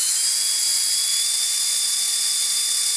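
A 20mm EDF fan unit motor, driven through an ESC, gives a steady, piercing high-pitched whine close to the mic that holds evenly throughout.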